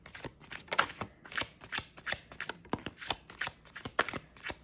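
Tarot cards being shuffled by hand, a quick series of crisp riffling flutters and soft slaps in an irregular rhythm, close and fairly quiet with no talk.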